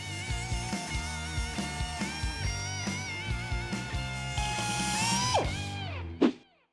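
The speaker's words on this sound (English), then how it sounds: "So we're going to run this with a sander on both sides and then start our test fit." A power sander smooths the cut sheet-metal edges on a Titan-swapped Nissan Frontier build with a loud, pulsing, whirring grind that rises in pitch toward the end, then a sharp whine before it spins down.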